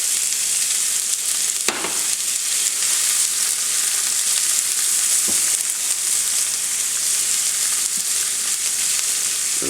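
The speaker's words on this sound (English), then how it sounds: "we have 1/4 cup of olive oil heated up on medium high. And now we are going to add our onions and garlic." Onions and garlic hitting a quarter cup of olive oil heated on medium-high: a loud, steady hiss of sizzling, close up, with a few faint clicks and no voices.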